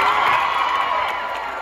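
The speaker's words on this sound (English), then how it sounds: "Round of applause." Concert crowd cheering and applauding in a brief, loud burst with some whoops, fading slightly toward the end.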